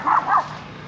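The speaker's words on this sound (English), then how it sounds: "Make sure there's some dogs barking in the background going crazy." Dogs barking in the background outdoors during a clothing photoshoot, two quick, fairly loud barks close together, followed by quiet.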